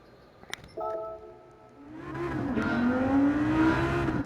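Stock-exhaust car in a racing video game, a rising engine note climbing steadily as it accelerates over about two seconds after a quiet start, loud and close with no talk.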